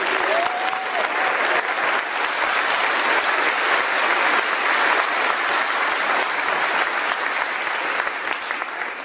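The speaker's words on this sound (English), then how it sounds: "We have a round of applause for this." Crowd at a high school graduation ceremony bursts into sustained applause, loud dense clapping that holds steady throughout and tapers slightly at the end, with no talking over it.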